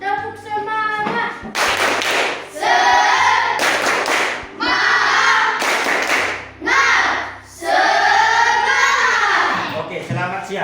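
A school class claps a rhythmic cheer together in patterned bursts of loud hand claps, with children's voices chanting and shouting between and over the clapping.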